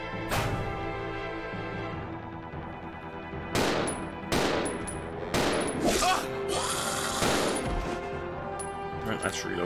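Gunfire in Resident Evil 0 HD: loud, sharp shots in repeated bursts, some rapid like automatic fire, set against game ambience and other effects.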